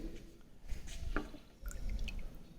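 Water drips and trickles as it is decanted off sand during a specific gravity test, with small splashes and squishy liquid sounds, close and intermittent over a low background hum.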